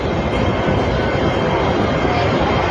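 A steady, loud rumbling roar of a commuter train moving through a Hong Kong station, continuous and close, with no clear voices.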